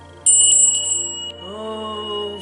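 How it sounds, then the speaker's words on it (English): A ritual bell in a Norse witchcraft ceremony is struck once, close and loud, its clear high tone sustaining and slowly fading while a low voice begins to speak or chant beneath it. "So we will ring the bell."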